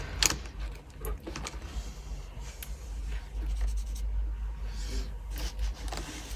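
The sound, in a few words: colouring in a 52-week savings challenge chart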